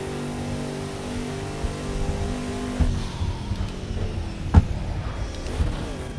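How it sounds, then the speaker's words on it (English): Car engine in the Project Cars 2 racing game, a powerful car downshifting from third into a corner, with a steady engine drone that breaks into revving bursts and a sharp transient as the gear drops. "Almost lost it there on the downshift."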